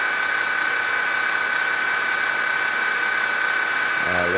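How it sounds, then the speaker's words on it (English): A model Athearn Genesis Southern Pacific EMD SDP45 diesel locomotive's engine sound, a steady droning hum with a constant tonal whine, holding evenly throughout at moderate loudness. "The engine sounds pretty good."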